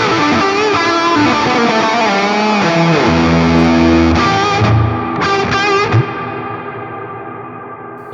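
An electric guitar played through a Line 6 Helix Stadium XL amp modeler with a dynamic plate reverb rings out in loud sustained chords, then tails off into a long fading wash of reverb.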